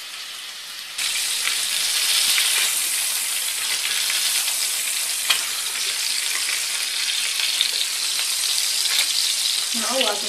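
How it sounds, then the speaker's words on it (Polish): Steady, loud sizzling of duck breasts frying in a hot pan, starting abruptly and crackling continuously with occasional sharper pops. "Już słychać, że piersi zaczynają się smażyć."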